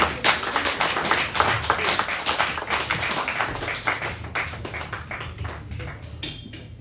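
An audience at a charity evening claps for Pastor Johnny, a dense spread of individual hand claps that holds steady throughout before thinning slightly near the end, fairly close and loud.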